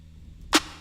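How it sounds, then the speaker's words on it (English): A single sharp hand clap, crisp and close, standing out alone against a quiet background. "One is a clap, and the one that I have sounds like this."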